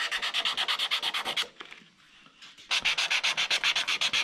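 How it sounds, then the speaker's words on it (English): Hand sanding a guitar body with 320-grit sandpaper: loud, close, rhythmic back-and-forth rubbing strokes, a brief pause in the middle, then another fast run of even scratchy strokes, with no voices. "I've got a little hunk there that needs to get sanded out smooth"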